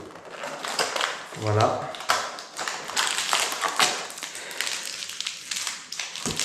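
Cardboard taps and clicks come from opening the door flap of a Disney Doorables Series 8 toy package, scattered handling sounds mixed with a person speaking throughout.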